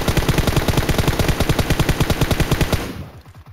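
Rapid automatic gunfire in the battle-royale game PUBG Mobile, a fast, even burst of close, loud shots that keeps up for about three seconds and then stops abruptly.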